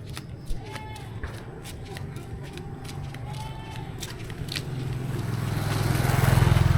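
A motorcycle passes along a farm road beside okra fields in Pangasinan, its low engine rumble building steadily and growing loudest at the end, with people talking nearby.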